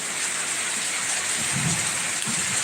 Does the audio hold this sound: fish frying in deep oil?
no